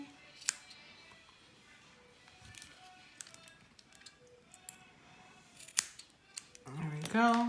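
Scissors snip away excess wire while building an RDA, with several small sharp clicks spread out over quiet background and a louder cluster of handling at the end.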